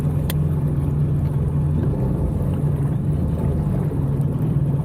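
An LS-swapped Humvee engine idles in a steady, low, even rumble that stays loud and constant throughout, with no revving.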